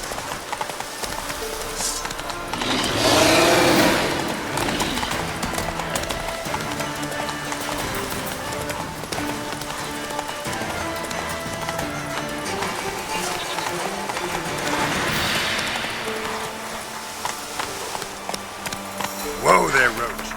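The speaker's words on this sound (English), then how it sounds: "Whoa there, Roach" Horse galloping in the video game Witcher 3, a steady clip-clop of hooves running throughout, with game music and ambience underneath and a brief voice near the end.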